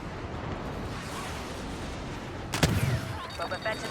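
A missile streaks past during a Star Wars: Battlefront battle on Hoth. Continuous rumbling combat noise fills the scene until a sharp, loud burst hits near the end, followed by scattered crackling pops.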